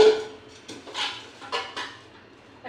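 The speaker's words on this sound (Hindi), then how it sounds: "कुकर खोल के देखिए" A pressure cooker being opened after cooking chickpeas, with several sharp metallic clinks and clatters of the pot and lid spaced irregularly, fairly close in a quiet kitchen.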